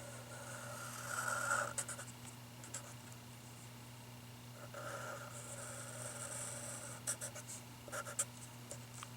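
A pencil scratches across graph paper while sketching a graph, close and soft, with bursts of scribbling strokes separated by short pauses over a low steady hum.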